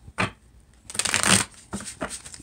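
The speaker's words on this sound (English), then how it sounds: "let me go ahead and get you one more shuffle" Tarot cards being shuffled by hand in a few quick riffling bursts, close and crisp, with short pauses between them and no talking.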